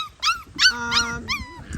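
Schnoodle puppy giving several high, squeaky yips and barks in quick succession, close and fairly loud, with whiny tones between them and no voices.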